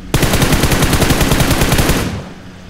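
Loud, rapid automatic gunfire from a mobile shooter game played competitively on an iPhone 11, a sustained close burst of evenly spaced shots lasting about two seconds before cutting off into fading echo.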